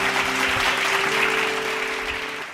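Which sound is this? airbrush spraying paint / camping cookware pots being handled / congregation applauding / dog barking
congregation applauding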